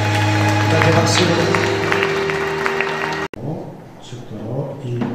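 A church congregation claps steadily at a worship service over sustained tones, then the sound cuts abruptly to a quieter, hollower patch of scattered noise.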